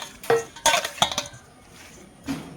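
Fish seasoned with salt, turmeric and chili is mixed in a dish, giving a few sharp clinks and scrapes in quick clusters, then a quieter pause and one last soft knock.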